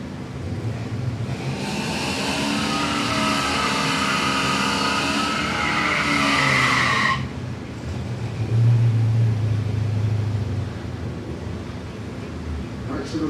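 Drag racing cars roar down a Florida dragstrip, a loud broadband engine blast with rising tones that cuts off sharply partway through, followed by a lower steady rumble and crowd noise.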